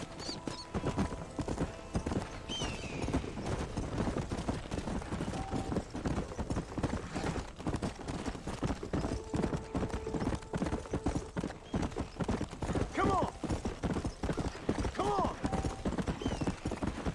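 In Red Dead Redemption Remaster, a horse's hooves clip-clop in a steady trotting rhythm with occasional whinnies, fairly quiet, alongside faint mechanical game sounds.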